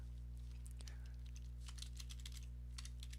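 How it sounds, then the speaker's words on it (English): Someone types a message on a computer keyboard during a livestream, with quick, irregular clusters of clicks over a steady low electrical hum. "That sound of the typing right now is me messaging him"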